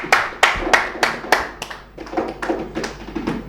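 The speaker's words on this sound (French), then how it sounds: "On va applaudir encore Petit Boza." Audience clapping for the performer Petit Bozard at a live show, starting as a few loud, distinct claps, then turning into softer, scattered applause from a small group.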